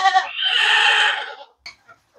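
A single long, loud bleat from a farm goat, close and wavering for about a second, followed by a few faint short sounds.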